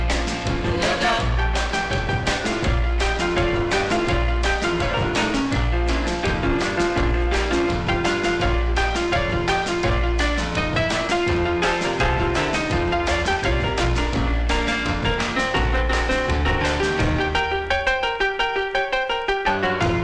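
A 1963 soul single on the Brandy label plays steadily at full volume, with a driving beat, band and vocal throughout and the arrangement thinning slightly near the end.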